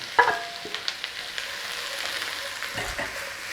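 Onions and peppers frying with brisket for a cheesesteak, a soft crackling sizzle with a few light clicks from the utensil near the start, close and fairly quiet, with no voices.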